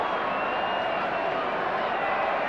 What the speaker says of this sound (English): enjoying the atmosphere of a big central crowd chanting